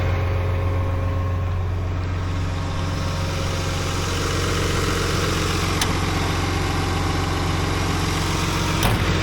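An ex-military John Deere 850J dozer engine runs steadily nearby with a deep, even diesel rumble and constant mechanical hum, broken by a couple of brief sharp clicks.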